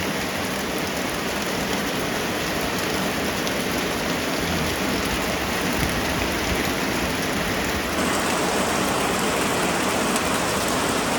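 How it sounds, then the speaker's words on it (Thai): Heavy rain pours down in a steady, dense hiss with no letup, loud and close, with a faint tonal whine fading out partway. "ฝนตกตั้งแต่เมื่อคืนนะครับผม จนถึงเช้าเลยนะครับ"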